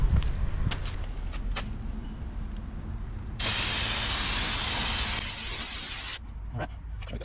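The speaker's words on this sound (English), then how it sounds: "go get this sprayed with a little bit of brake clean, make sure there's no machining oil left on the surface" Brake cleaner sprayed onto a new clutch flywheel in an Evo X clutch install, a steady loud aerosol hiss lasting about three seconds, with workshop clatter and someone talking around it.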